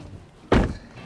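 A scissor door on a Corvette Z06 gives one solid thunk as it is unlatched and lifted, close and fairly loud, fading quickly into quiet.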